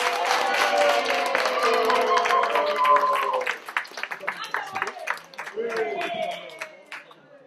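A gathering of Alassane Ouattara support clubs in the Benelux bursts into dense, loud applause mixed with cheering voices to acclaim his election victory. The clapping thins into scattered claps and voices after a few seconds.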